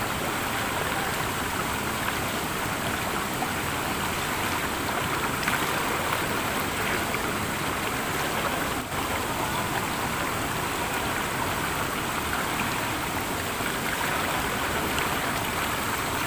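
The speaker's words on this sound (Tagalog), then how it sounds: "Lakas ng alon." Strong waves and rushing water churn near Estrella Falls in Narra, Palawan, a dense, continuous broadband roar holding steady throughout, loud and close with no pauses.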